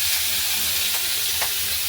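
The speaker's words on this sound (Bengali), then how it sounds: "আর আলু পেঁপেটা একটু নাড়ছি" Potato and papaya cooking in a frying pan make a dense, steady sizzling hiss, with a couple of faint stirring strokes and no one speaking.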